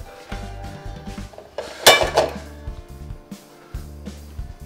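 A metal frying pan is picked up and set down on a stove, giving several clanks and clinks, with one louder bright clatter in the middle among quieter knocks and low hum.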